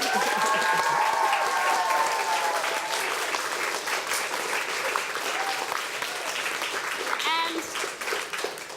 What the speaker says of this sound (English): can we have a round of applause for Rex?